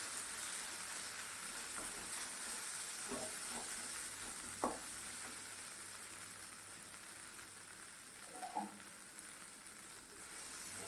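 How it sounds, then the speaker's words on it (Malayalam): Coriander, chilli, garam masala and turmeric powders with salt sizzle softly in a pan, a faint continuous hiss broken by a few spoon scrapes. "മല്ലിപ്പൊടി, മുളക് പൊടി, ഗരം മസാലപ്പൊടി, മഞ്ഞൾപ്പൊടി, ഉപ്പ്. ഇത് നല്ലപോലെ ഒന്നുകൂടി ഒന്ന് വഴറ്റിയെടുക്കാം."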